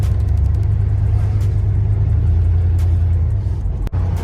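A G-body car's engine with a leaky exhaust idles with a deep, uneven rumble and a raspy, blatting exhaust tone, steady and close throughout, with a brief dip near the end.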